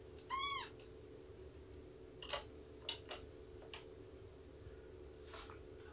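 A cat meows once, close and clear, followed by a few faint clicks and taps against a steady low hum in a quiet room.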